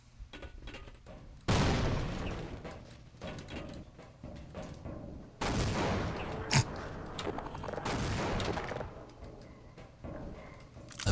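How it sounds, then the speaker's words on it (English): Several grenade explosions in Half-Life: Opposing Force, heavy booming bursts a few seconds apart with fainter clicks and scattered shots between them, fairly quiet overall. "I'll start chucking some grenades."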